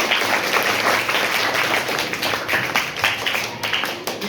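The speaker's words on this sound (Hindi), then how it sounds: "ताली बजाइए मेरे लिए।" A classroom of students applauds their teacher, a dense, steady burst of many hands clapping at close range that carries on throughout.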